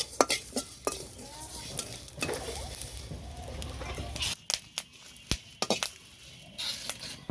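Cumin and mustard seeds frying in a pan, a soft sizzle under repeated sharp clinks and scrapes of a spoon stirring against the pan, with brief quiet talk.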